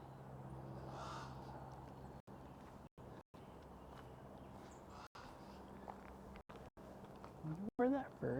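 Outdoors on a walk at Washington Park Arboretum, a bird gives a couple of harsh, crow-like caws near the end, moderately close, after a stretch of quiet ambient noise and footsteps with people talking.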